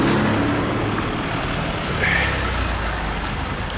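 Traffic jam of cars and trucks idling near a viaduct where new tram tracks are being laid, with a steady low engine rumble and road noise filling the whole stretch, close and continuous.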